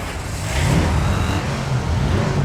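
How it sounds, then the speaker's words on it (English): A car engine revving ahead of a Gaslands race: a loud, close, rumbling drone that swells and dips in pitch, alone without speech. "start your engines."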